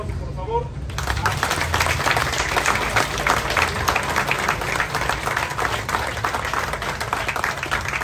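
After a quieter first second, a crowd in Coatepec, Mexico breaks into sustained, even applause, a dense wash of many hands clapping that stays loud and steady to the end, with faint talk underneath.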